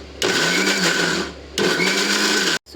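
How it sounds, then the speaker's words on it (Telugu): A kitchen mixie grinding milk cream to make ghee whirs loudly in two steady bursts separated by a short pause, then cuts off abruptly. "సో అది తీసుకొని ఇలా మనం మిక్సీలో గ్రైండ్ చేయాలి"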